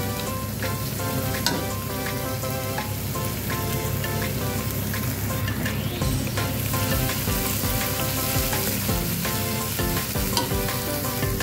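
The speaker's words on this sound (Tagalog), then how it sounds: "Nilagay ko na yung bawang sibuyas. Papulain lang sa konti." Garlic and onion sauté in a pan for a cabbage, tuna and egg dish, a loud, steady sizzle with scraping stirs throughout and no talking.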